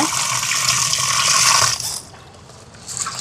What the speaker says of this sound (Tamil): இப்போ இந்த உளுந்த கழுவி எடுப்பேன்ல